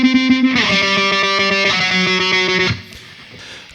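Heavily distorted electric guitar playing a riff, loud, close and chugging with repeated picked notes, then cutting off into a brief quiet tail.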